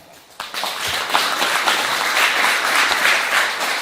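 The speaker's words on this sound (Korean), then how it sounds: "박수를 일단 맞아주시면 감사하겠습니다" An audience at a book concert applauds as a poet who walks with crutches comes on stage, the clapping starting abruptly and holding as a dense, steady wash close by.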